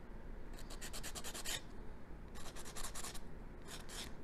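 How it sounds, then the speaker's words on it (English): Metal hand file smoothing the tops of a stamped metal pendant, in bursts of quick rasping strokes close up, three rhythmic runs separated by short pauses. "So I'm just filing those tops down. So it's nice and smooth"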